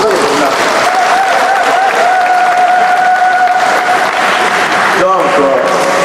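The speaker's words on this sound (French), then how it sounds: "Merci pour applaudir." A church congregation at a wedding applauds in a sustained, dense wave of clapping that fills the room, with a voice speaking over the noise.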